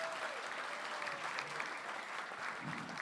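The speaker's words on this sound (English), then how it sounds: "Let's give another round of applause for Gerwin Healthcare System." A ceremony crowd at the Long Island Imagine Awards, honoring nonprofits, keeps up a dense, even round of applause throughout, with no break in the clapping.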